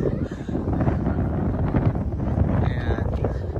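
Strong cold wind blows outdoors on a Halloween evening in the USA, buffeting the microphone with a steady low roar, while a person speaks over it.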